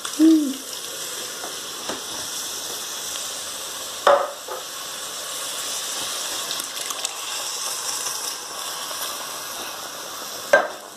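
Chopped tomatoes go into a vegan bolognese in a pan, a steady hissing sizzle with a few soft knocks and scrapes of a utensil, no talking.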